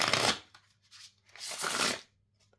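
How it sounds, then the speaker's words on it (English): A matte cardstock tarot deck is shuffled by hand in two close, crisp riffling bursts separated by soft taps and brief pauses, with no one talking. "So when you shuffle this deck,"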